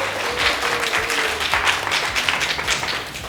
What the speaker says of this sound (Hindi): तो एक बार अपने लिए तालियां बजाते हैं